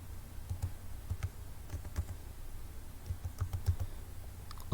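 A password typed on a computer keyboard: quiet, irregular key taps in short clusters, close and soft, with no one talking.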